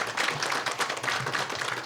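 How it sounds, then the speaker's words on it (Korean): A forum audience at a KOGAS panel on ESG management applauds to welcome a panelist, steady many-handed clapping at moderate volume with no talk over it. "큰 박수로 환영해 주시기 바랍니다."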